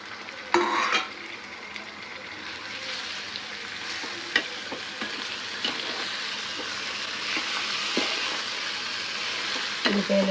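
Chicken frying in a pan with onions and chili powder, a steady close sizzle broken by several sharp clanks and scrapes of a spoon stirring, with no voices.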